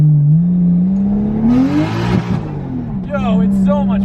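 Tuned JZ-swapped drift car engine revving hard on a low wastegate duty cycle, rising in pitch to a loud peak then settling back to a steady idle, with a voice talking over it near the end.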